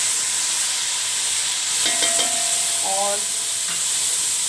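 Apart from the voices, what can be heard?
ginger garlic paste frying in a karahi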